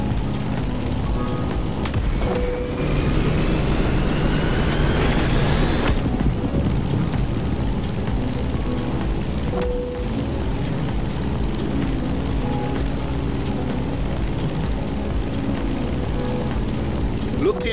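An F4U Corsair propeller fighter climbing in the Kingdom of Lani flight game, a steady loud engine drone with a rising whine early on, continuous throughout, with a voice talking over it.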